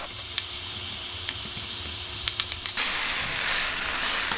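Fish cakes drop into a hot pan of simmering sauce made with soy sauce, oyster sauce, sugar and garlic, giving a steady close hiss and sizzle with a few soft clicks and taps, and the sizzle eases near the end.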